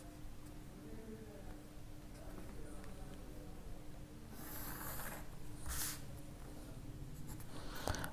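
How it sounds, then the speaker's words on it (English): A pencil draws lines along a ruler on paper with a soft, steady scratching that runs continuously, faint and close, then a few brief louder scrapes. "Draw a line passing through these 3 points with the help of ruler."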